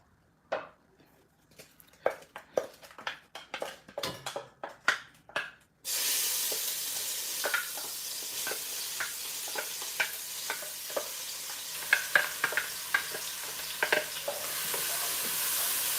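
Coconut milk fried rice with rosemary being stirred in a frying pan, a steady sizzle that starts abruptly after a few seconds of sparse clinks and utensil taps, with scraping strokes of the spoon through the rice.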